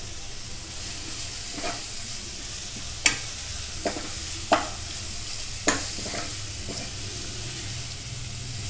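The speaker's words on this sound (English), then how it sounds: "saute them for 2 to 3 minutes" Vegetables with carrot sautéing in a pan over a gas flame, a soft steady sizzle and hiss with a few sharp scraping taps of a spoon at irregular intervals.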